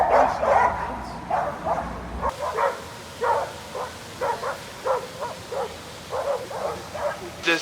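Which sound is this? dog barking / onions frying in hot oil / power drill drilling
dog barking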